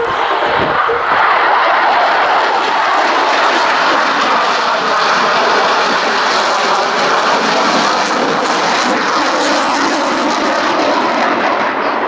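An aircraft at an airshow makes a low pass over the crowd with landing gear and wings extended, its engine roaring loud and close for the whole stretch, swelling slightly and holding steady.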